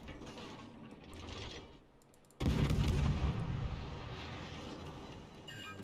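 Warship guns fire in the naval game World of Warships Legends: a sudden heavy blast breaks a quiet lull, then a long rumbling roar fades slowly beneath faint mechanical clatter.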